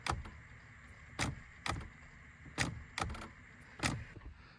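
A faulty, skipping turn signal flasher in a Chevrolet Silverado or GMC Sierra gives sharp clicks that repeat at an irregular pace, about one per second, over a low steady hum.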